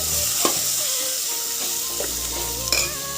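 Vegetables including green chillies, coriander, curry leaves and drumsticks frying in a pan with ginger paste, producing a loud, continuous sizzle with a few stirring scrapes and clinks, close and without talk.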